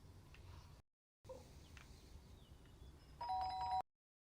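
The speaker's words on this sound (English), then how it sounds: "The doorbell went again" A doorbell rings in the video game Fragments of Him, a clear two-tone chime near the end, following quiet room ambience broken by short silent gaps, with no talk.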